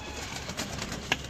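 A pigeon gives a faint, low coo over quiet room noise, with a short sharp chirp near the end.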